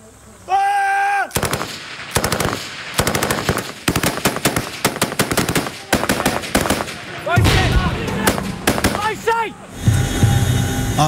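Rapid gunfire from Royal Marines in Afghanistan cracks out in loud, repeated bursts of machine-gun fire, close and punchy, with voices shouting between the volleys.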